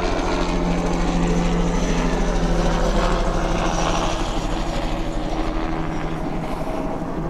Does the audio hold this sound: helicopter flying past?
yes